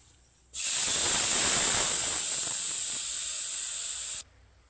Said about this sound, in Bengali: মশলা মেশানো জলটা এখন তেলের উপর দিয়ে দেব।